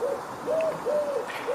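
Soft, rolling purrs of a European turtle dove repeat in an even rhythm, four low cooing notes heard close up with nothing else around them.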